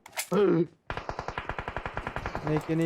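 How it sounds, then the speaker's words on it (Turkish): Rapid automatic gunfire in the mobile battle-royale game PUBG Mobile: a steady burst of about twenty evenly spaced shots, loud and close, with player voices talking just before and after. "Yukarıdan sıkıyorlar."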